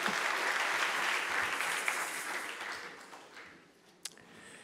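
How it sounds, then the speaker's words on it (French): Audience applause for a candidate at a thesis-presentation contest, steady clapping that gradually fades, ending with a single sharp clap. "On peut l'applaudir."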